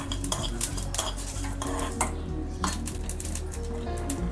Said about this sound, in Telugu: షాజీరా లవంగ ఎల చెక్క ఇవి వేసేద్దాం